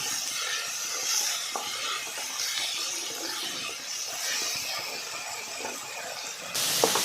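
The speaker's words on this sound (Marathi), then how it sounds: "थोडीशी कोथिंबीर घालायची आहे व चांगल्या दोन मिनटं परतून घ्यायचं आहे" Onion, tomato and coriander sauté in a hot pan, giving a steady sizzling hiss with faint scraping throughout and a brighter burst of sizzle at the very end.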